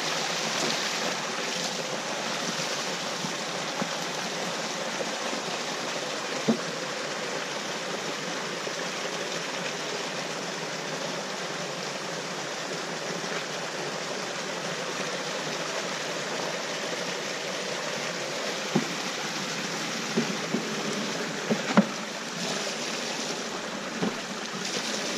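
Stream water rushes steadily around a DIY micro hydro intake pipe, a continuous broadband wash that holds close and even throughout, with a few faint knocks near the end.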